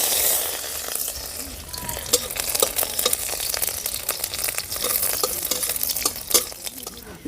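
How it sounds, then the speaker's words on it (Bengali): Dried red chili and garlic cloves tempering in hot oil in a pan for a bitter gourd leaf and small river fish curry give a steady, close, hissing sizzle, punctuated by frequent sharp clicks and scrapes of a spoon stirring against the pan. "ফোড়ন দিয়ে দিচ্ছি একটা শুকনো লঙ্কা দিয়ে দেব কয়েকটা রসুনের কোয়া"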